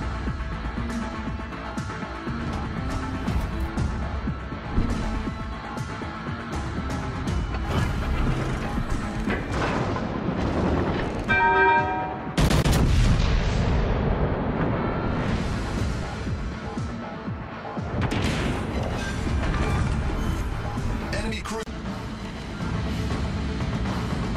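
Heavy battleship gunfire in World of Warships Legends aboard the Massachusetts B, with booming salvos, crashing impacts and rumbling explosions rolling over a continuous battle soundscape.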